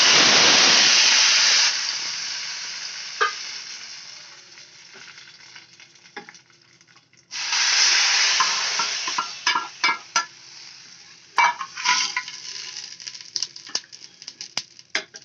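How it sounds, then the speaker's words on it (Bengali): Hot tempering is poured into South Indian sambar, setting off a loud burst of sizzling frying that fades, then a second sizzle with scattered clinks and stirring taps from the pot, with no talking. "এবার আমি তরকাটা সম্বারের মধ্যে ঢেলে দেব।"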